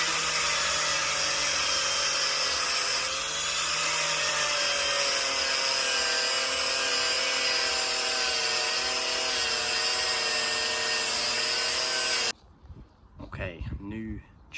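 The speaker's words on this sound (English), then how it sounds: "So I've just cut the chain off, as you just saw." Loud, steady grinding whine of a tool cutting off the old chain on a Suzuki TL1000R superbike, running unbroken for about twelve seconds before stopping abruptly, followed by brief voice sounds.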